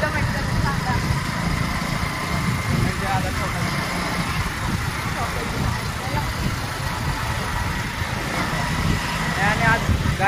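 A car engine runs steadily with a low rumble throughout while being driven, with no talk, as a constant close hum and road noise.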